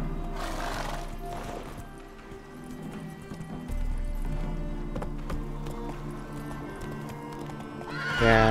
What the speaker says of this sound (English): just gonna use a horse just to be sure